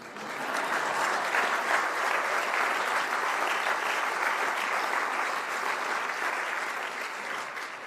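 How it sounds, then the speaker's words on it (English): Audience applause after a presentation at a Cedar Rapids schools bond-plan meeting: a dense, steady wash of clapping from a room of people, sustained at even loudness for about eight seconds with no talking. "I'm not used to getting applause when I present,"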